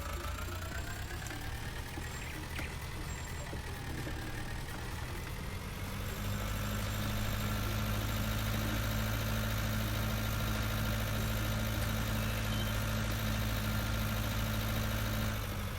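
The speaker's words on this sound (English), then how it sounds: "Nice Holder tractor." A Holder tractor engine idles in Farming Simulator 19 with a steady, low mechanical drone that thickens and grows slightly louder partway through, running on alone without any talk.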